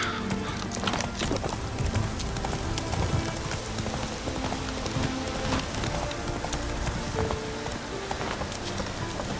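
Roach the horse gallops in The Witcher 3, a steady stream of clip-clopping hooves running throughout at close range, with a brief whinny and a faint voice.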